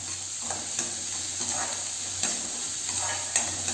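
Chopped ginger frying in a pan for a kara masala dosa filling, a steady loud sizzle close by with occasional stirring scrapes, no talk.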